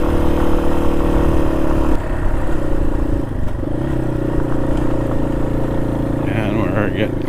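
A 19-horsepower motorcycle engine lugging in gear on a washboard gravel back road in Southwestern Ontario, a steady close drone with mechanical clatter and a slight dip in pitch midway.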